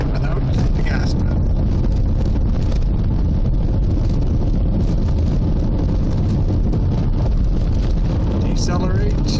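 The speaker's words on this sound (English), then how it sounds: "Okay, turn the cruise control on, set, light is on, and accelerate without hitting the gas pedal." Malibu Maxx boat engine accelerating on cruise control: a loud, steady roar of motor and hull on water heavily mixed with wind buffeting the microphone, continuous throughout.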